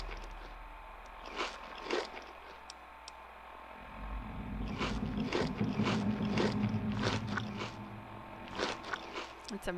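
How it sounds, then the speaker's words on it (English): Repeated crunchy biting and chewing sounds from a Fallout 3 character eating, with a low engine-like rumble running underneath in the background. "Let's eat some ramen steak."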